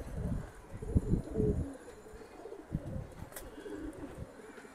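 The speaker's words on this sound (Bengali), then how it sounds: "নর মাদি দুইটাই কিন্তু ব্লু চোখের কবুতর" Blue-eyed male and female Jabra pigeons coo in soft, low repeated bursts close by, with a few faint chirps and a brief rustle.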